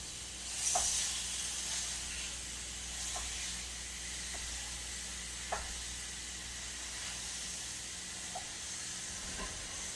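Meat fries in a skillet with a quiet, steady sizzle and hiss, broken by a few faint clicks of a spatula or utensil.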